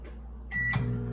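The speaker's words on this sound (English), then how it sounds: "There goes the microwave." An Amazon Basics microwave oven starts on an Alexa voice command: a short beep, then the steady hum of the running oven sets in and stays close and clear, with no talking.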